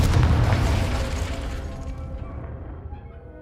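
A Confringo blasting curse in Hogwarts Legacy bursts loud and close, its broad rumbling roar tailing off over a few seconds before a sharp new burst cuts in at the end.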